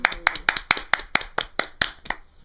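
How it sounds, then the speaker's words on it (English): Clapping in a casual PS4 versus Xbox One comparison: about a dozen sharp, close claps in a quick, slightly uneven rhythm, heard alone and fading slightly toward the end. "Give it a round of applause."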